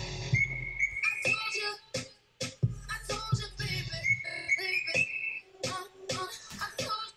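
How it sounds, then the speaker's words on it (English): A whistle sample loops in a music production project, with short bright whistled tones and punchy beat hits arranged in a repeating rhythmic pattern. "Because that whistle is kind of interesting,"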